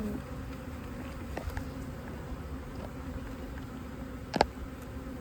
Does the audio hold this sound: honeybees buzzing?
yes